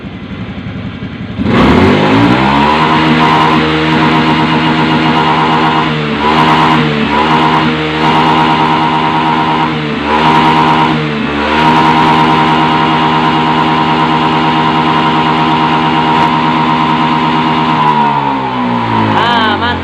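A Honda BeAT FI motorcycle engine starts and is revved repeatedly, pitch rising and falling in several bursts over a sustained loud idle, then cuts out.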